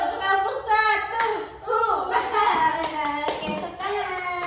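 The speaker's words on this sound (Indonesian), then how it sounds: "tepuk tangan" Children in an Indonesian primary school classroom clap their hands in short rhythmic bursts, close and lively, mixed with a teacher's and kids' voices talking over the claps.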